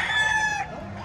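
Lemon Sweater gamefowl rooster crowing at a busy pet market, one close, loud crow with a rising harmonic call that holds for most of a second and then fades under crowd noise.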